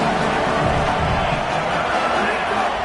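Loud football stadium crowd roaring in a continuous, dense wall of noise, steady and unbroken with no single voices standing out.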